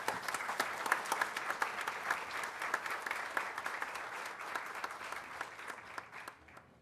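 Applause fills the room at an international seminar on democracy and elections, a steady spatter of many hands clapping that sounds somewhat distant and quiet, then thins and fades toward the end.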